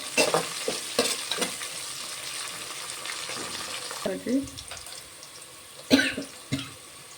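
Ingredients with mint fry in a pan for a rice dish, a soft steady sizzle under scraping stir strokes and clinks, with a cough and a throat clearing breaking in.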